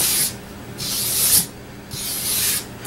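An axe head is worked in a crisscross pattern to strip rust, heard as three long, hissing abrasive strokes with short quiet gaps between them, close and fairly loud.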